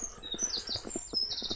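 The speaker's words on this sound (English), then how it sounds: "Beautiful bird song." Birds chirp and sing on a woodland walk in Cannock Chase, where robins, crows and jackdaws are calling; several quick high tweets and trills repeat close by with no talking.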